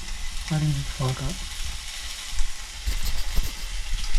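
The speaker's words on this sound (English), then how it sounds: "I'm cooking the onions" Onions with oregano sizzling and frying in a pan, a steady close hiss with a few brief voiced sounds over it early on.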